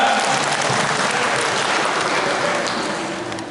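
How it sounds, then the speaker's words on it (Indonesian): An audience at a religious study gathering claps loudly in a dense, continuous burst that stays full and fades only slightly near the end. "Tepuk tangan."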